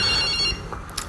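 A telephone rings briefly in a played video clip, a short electronic trill in the background with a bit of muffled rustling.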